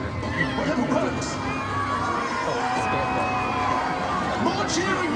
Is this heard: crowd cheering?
yes